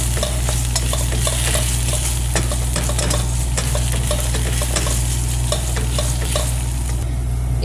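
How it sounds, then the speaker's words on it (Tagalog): Onions fry in a pan for a fish salona with tomato paste, a constant loud sizzle over a low hum, with a utensil scraping and stirring in frequent irregular strokes. "Halo na ito malipong."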